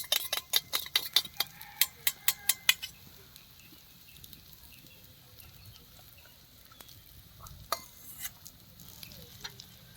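Eggs beaten in a bowl: a quick run of sharp, rhythmic clinks from a utensil against the bowl at the start, then softer scattered taps and stirring sounds, close and fairly quiet, with no talking.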